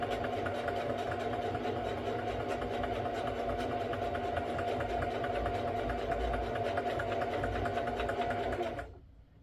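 A Singer sewing machine runs steadily at a constant, fairly loud whirring pace for several seconds, then abruptly stops near the end, leaving silence.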